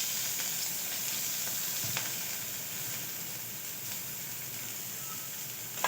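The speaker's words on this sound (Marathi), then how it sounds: "त्यात आपण बारीक चिरलेला लसूण छान असा लालसर होईल तोपर्यंत आपल्याला परतवून घ्यायचा आहे। त्यात बारीक चिरलेला कांदा घालणार आहोत।" Finely chopped garlic and onion frying in hot oil give a continuous, even sizzle close by, with a few faint stirring taps and no voices.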